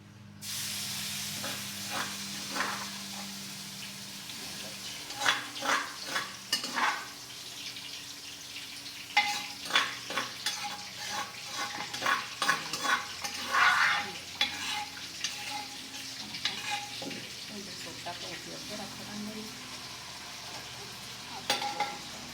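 Spiced masala frying in a pan for a taro (arbi) curry, with tomatoes and chili, crackles and sizzles while a spoon scrapes and stirs in irregular bursts, fairly close, with no talking.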